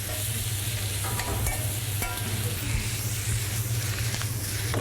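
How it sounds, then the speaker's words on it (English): Peppers and shallots caramelising in a pan over fierce heat, a steady close sizzle and crackle of frying with occasional stirring scrapes, running continuously with no talk. "it's important throughout to cook on a fierce heat, especially when we're caramelising the peppers and the shallots"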